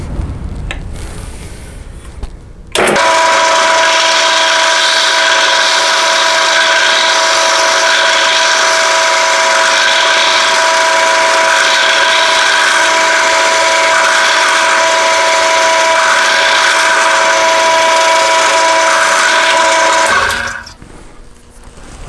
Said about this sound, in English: I've put it in my drill press, and that's what we're going to use to drill the hole out for this blank